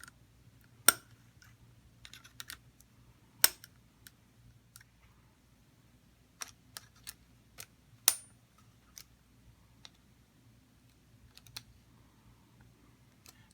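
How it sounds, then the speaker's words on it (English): Screws being driven back into the clips of a carry holster, heard as scattered small sharp clicks and ticks spread out with quiet gaps between them, close by and with no voices. "Now we're going to tighten the screws back up."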